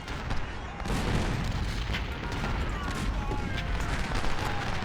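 Cannon artillery fire in a strategy battle game, a dense fusillade of booming shots rolling continuously over a loud, busy battlefield din.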